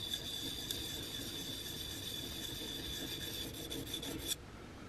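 Continuous rasping of metal tweezers rubbed back and forth against an old 1950s sanding stone, steady and close, stopping abruptly near the end.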